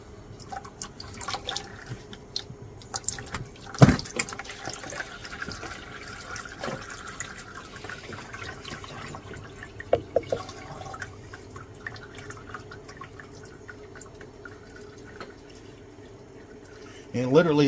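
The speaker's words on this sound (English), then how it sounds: "this way is probably the best way that I found to drain the oil and generators" Oil from an ACEUP 4000W portable inverter generator drains into a bucket in a faint, continuous trickle with scattered drips, while someone talks over it.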